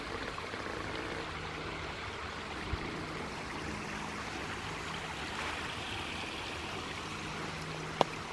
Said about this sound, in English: Water coming into the river in two places.